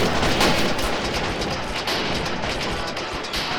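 Continuous gunfire in a game as the purple side opens fire, a dense, steady rattle of shots with some booming weight, loud and sustained without a clear break.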